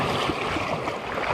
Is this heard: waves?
yes